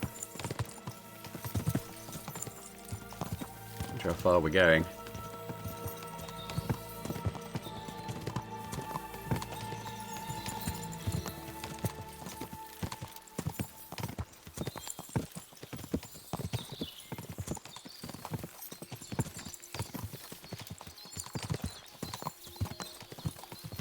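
A horse's hooves clip-clop in Kingdom Come Deliverance 2, a steady rhythmic walk of dull knocks with a brief whinny near the start, under a quiet ambient backdrop, while someone briefly talks.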